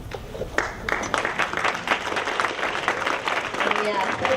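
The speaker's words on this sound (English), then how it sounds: "Yes, a big round of applause to them." Audience applause at the 2015 Northern California Cherry Blossom Queen Program, a dense, steady wash of many hands clapping that fills the room for several seconds, with voices mixed in underneath.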